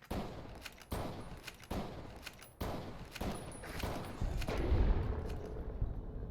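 Gunfire in the video game Fallout New Vegas: a string of sharp shots spaced about a second apart, followed by a denser burst of rapid fire, with no talk over it.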